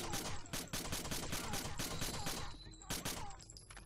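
Rapid bursts of gunfire from the video game Rainbow Six Vegas 2, dense overlapping shots crackling loudly and continuously throughout, with brief breaks between volleys.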